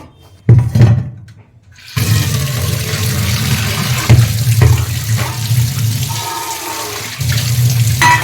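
A kitchen tap gushes water over pieces of freshly cut fish being washed, a loud, close, continuous splashing stream with brief pauses and changes in flow, no talking.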